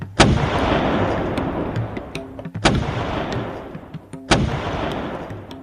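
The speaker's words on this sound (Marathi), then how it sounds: "तेवढ्यात विशाळगडाच्या आसमंतात 3 वेळा तोफांचे आवाज झाले" Three cannon blasts boom across the hills around Vishalgad fort, each a sudden loud crack that rolls into a long fading rumble, spaced roughly two seconds apart with no voices.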